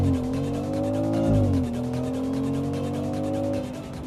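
BMW X3 M50 launching hard under launch control at night, a loud, close engine roar with rising and shifting pitch that briefly dips at one gear change and then holds steady as the SUV pulls away.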